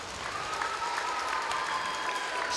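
Spectators at a rhythmic gymnastics school event in Zhytomyr clap together in a fairly faint, even patter of applause heard from a distance, continuing steadily throughout.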